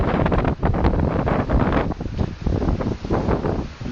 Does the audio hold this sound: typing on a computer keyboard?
no